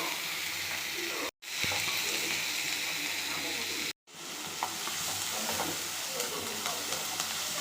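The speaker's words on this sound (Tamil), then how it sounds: "பெரிய வெங்காயம் ரெண்டு வெங்காயம் நல்லா வதக்கிடும்" Chopped onions sauté in hot oil with mustard seeds and urad dal for a Tamil-style mushroom gravy, a steady close sizzle with stirring scrapes running throughout, broken by two brief silent gaps.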